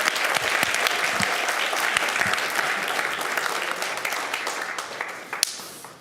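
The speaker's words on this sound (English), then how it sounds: "Let's give them one more round of applause." A dense audience applauds at a Duncanville ISD school board meeting. The steady clapping fills the room for about six seconds, tapering slightly toward the end.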